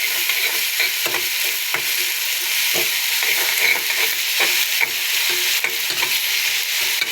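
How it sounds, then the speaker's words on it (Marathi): Sliced onions frying in hot oil for chicken biryani, giving a loud, continuous crackling sizzle that runs steadily throughout, with occasional stirring scrapes; no one speaks. "तर तेल छान असं गरम झालेलं आहे तर कांदा कापून घेऊया आता हे तळून घ्यायचं आहे"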